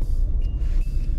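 A car engine idles in second gear as the car rolls along with no pedals pressed, giving a steady low rumble close inside the cabin, briefly accompanied by a faint high whine.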